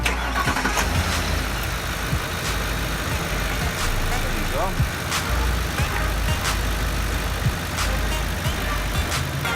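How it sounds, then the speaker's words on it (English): A truck engine turns over and settles into a steady, rumbling idle during a coolant flush, with a person speaking briefly over the running motor. "we're gonna start the truck again"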